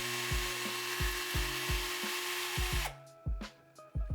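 A 1.5mm drill bit bores into the rivet post of a diecast Matchbox Commer Pick-Up Mk VIII, with a steady whirring whine, repeated clicks of the drill, then brief bursts of drilling after it stops.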